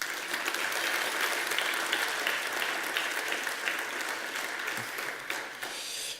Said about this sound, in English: I'd like to have a round of applause to this guy